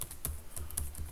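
Keys clack on a computer keyboard during web development work, a steady run of light, close taps at an even pace with no talking.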